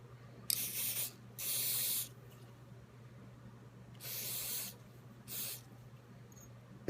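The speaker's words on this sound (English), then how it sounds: "Spray all that down with Ballistol or whatever cleaning solution you use." Ballistol cleaning solution sprayed onto disassembled 1911 pistol parts: four sharp hissing aerosol bursts, two close together then a pause and two more, close and fairly loud over a low steady hum.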